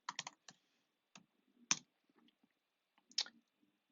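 Fingers tap on a computer keyboard, producing sparse, crisp clicks in short irregular bursts with pauses between, close and fairly quiet.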